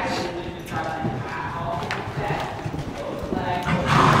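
Horse hooves clip-clop steadily on hard ground during a winter ride, a close and continuous walking rhythm heard under people chatting.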